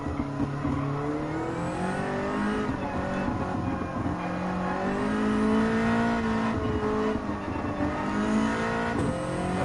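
A race car in Gran Turismo 7, a Nissan Silvia, roars steadily with engine pitch rising and falling through gear changes and cornering, loud and continuous with no voice over it.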